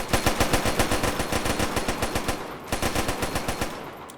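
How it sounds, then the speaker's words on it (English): Rapid rifle fire in the video game Arma sounds as a fast burst of close, sharp shots, a short pause, then another burst, loud and with no talking. "Rapid Fire, as I was saying, 5 to 7 shots, then a 1 second pause"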